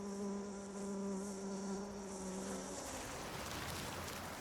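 Male bees buzz around Ophrys flowers, a close, steady droning hum that holds for a couple of seconds, then gives way to softer rustling and faint buzzing.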